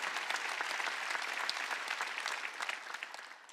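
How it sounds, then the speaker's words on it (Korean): A church congregation at a Wednesday worship service applauds together, a sustained even patter of many hands clapping that loosens into scattered claps toward the end. "박수 치라."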